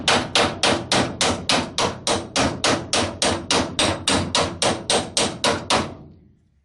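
About twenty sharp, evenly spaced hammer blows ring out on the metal bodywork of a VW Kombi van during body repair, loud and close, then stop and leave a short fading decay.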